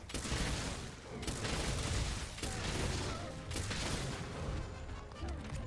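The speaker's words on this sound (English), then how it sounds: "I love explosions." Dense, continuous rumbling blasts and gunfire-like bursts fill the whole stretch, loud and chaotic with no pauses, from explosions in the video game Monster Hunter World.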